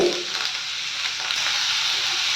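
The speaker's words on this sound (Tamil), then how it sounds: "ஆனியன் வந்து வதங்கிட்டு இருக்குங்க" Onions sauté in a pan for a horsegram rasam, giving off a steady, soft hiss and sizzle close by, with no talk over it.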